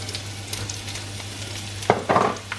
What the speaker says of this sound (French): Alors on va mettre tout d'abord nos oignons